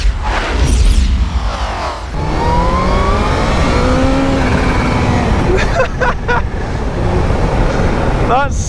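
A loud, revving supercharged Kawasaki Z H2 motorcycle engine with a rising whine that climbs and falls, steady and close, with sharp bursts near the end.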